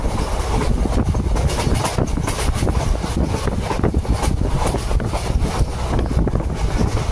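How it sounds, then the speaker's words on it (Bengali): A train running on rails between Krishnanagar and the Bethuadahari halt, a steady loud rumble with rattling wagons and wind buffeting the microphone throughout, no talk. "এবার গিয়ে ট্রেন দাঁড়াবে বেথুয়া ডবরিতে।"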